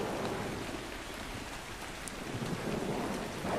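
Steady heavy rain pours throughout in the video game ARK: Scorched Earth, with a faint low rumble of thunder underneath; no voices.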